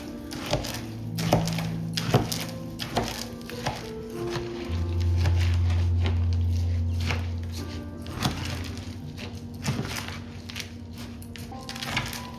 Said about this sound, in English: So just stir it, pulling the bottom up to get the liquid up to the top until all the seeds have a coating.